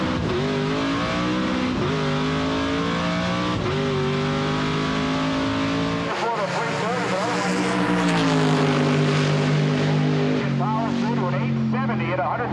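A supercharged drag race car running with a smaller blower pulley for more boost and extra clutch, its loud sustained engine roar rising in pitch through the run, with people talking over it.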